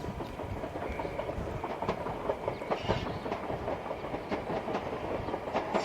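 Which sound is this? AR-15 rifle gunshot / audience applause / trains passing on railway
trains passing on railway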